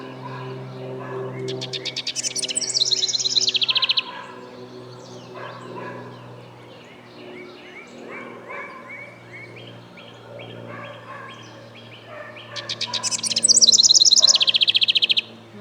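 A bathing brown thrasher gives loud, bright calls that burst out twice, at the start and again near the end, with quieter warbling and chattering in between.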